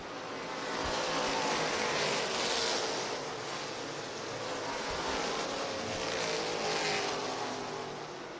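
Stock cars in a Great American Stocks race roar around the track at a distance, a continuous blended engine drone that swells and fades as the pack passes.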